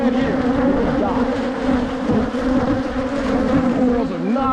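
Agitated honeybees swarm around an opened hive on a hot summer day, a loud, dense, continuous buzz with shifting pitches as bees circle close by.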